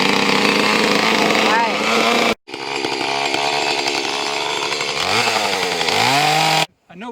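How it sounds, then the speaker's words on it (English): A chainsaw runs on half choke to warm up, its engine droning loudly and steadily with brief cutoffs and revving pitch swings, heard close up. "we got the chainsaw started, but I had to let it run on half choke for a little while to let it warm up"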